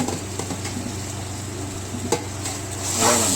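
Tomatoes go into a pan of ginger-garlic that is sautéing and starting to stick, with a soft, steady sizzle under a low background hum, scattered stirring taps, and a brighter hiss that swells near the end.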